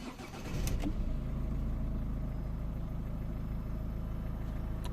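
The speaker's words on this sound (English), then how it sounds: "Let's start this engine." A Volvo S40 1.6 diesel engine cranks briefly and catches, then settles into a steady, loud, close idle with a low, even rumble, with no talk.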